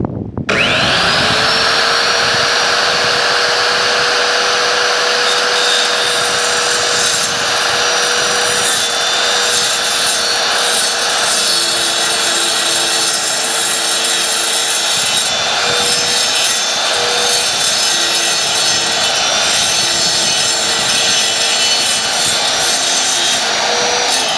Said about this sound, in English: you're gonna let the blade get up to speed, and then you're gonna slowly go